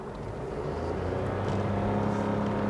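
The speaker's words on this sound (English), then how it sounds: "it really sounds like the gearbox is working hard" A 2022 Toyota Yaris Cross AWD hybrid small SUV revs up under hard acceleration, its drone rising and thickening as the gearbox works, with a steady low rumble throughout.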